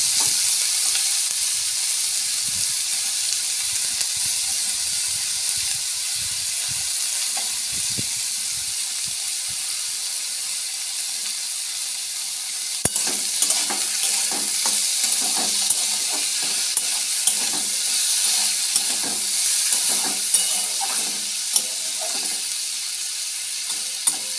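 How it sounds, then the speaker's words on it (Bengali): Continuous sizzling of potatoes frying in oil, with soft scraping and clicks of stirring that grow busier in the second half. "এটা তেল দিয়ে ভাজা হয়ে যাবে"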